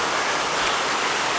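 A waterfall rushing on a mountain hiking trail, heard as a steady, even broadband roar of falling water with no talk over it.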